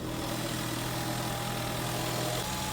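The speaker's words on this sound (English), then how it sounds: "Mustang running." A Ford Mustang with a turbocharged EcoBoost engine, recovered after theft, idling steadily with a low, even hum and no revving, heard close up at a modest level.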